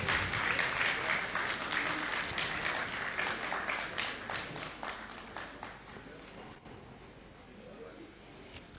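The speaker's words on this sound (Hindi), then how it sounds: "बहुत जोरदार तालियां।" At a prize ceremony for a school recitation and speech contest, a crowd claps steadily and fairly close, the applause gradually fading over several seconds as a few last claps trail off.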